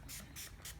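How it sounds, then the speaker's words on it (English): Application fluid sprayed onto a Polaris Ultra 680 snowmobile before a graphic goes on, three quick hissing bursts from a spray bottle, close and soft, in an otherwise quiet room. "we're going to take our application fluid. We're just going to spray it down"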